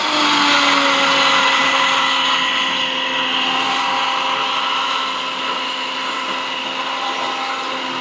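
A 4G all-in-one food machine mixer kneading chapati dough, a loud continuous motor whine that holds steady and drops slightly in pitch and level partway through, close up with no voices.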